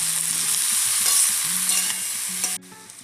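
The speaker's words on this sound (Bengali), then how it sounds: "এটাকে আমি ভালো করে ভেজে নেব" Spinach, gourd and beans stir-fry in a hot pan for a village-style curry, a loud steady sizzle with spatula scraping and stirring up close, cutting off sharply near the end.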